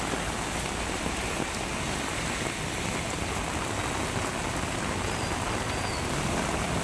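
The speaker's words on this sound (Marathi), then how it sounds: "सूरज, दादरमध्ये काय परिस्थिती आहे, या क्षणी कसा पाऊस पडतोय?" Heavy rain pours steadily over Dadar in Mumbai, a dense, even hiss of falling water that fills the whole clip without a break, with no talk over it.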